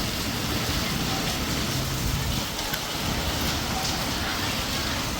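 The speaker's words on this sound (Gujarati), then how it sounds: "મસ્ત વરસાદ ચાલુ થઈ ગયો છે ભાઈ." Steady rain falls as a dense, continuous hiss and patter outdoors, close and fairly loud, with a faint voice in the background.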